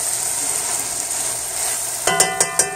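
Saltfish with okra and butter beans sautés over a mid-to-low flame, giving a soft continuous frying hiss, then a few sharp metallic clinks and scrapes of a spoon against the pot near the end.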